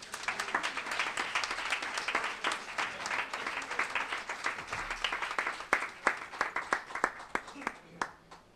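Audience applause at a book presentation, sustained crowd clapping at moderate volume that thins into scattered individual claps near the end, with faint voices beneath.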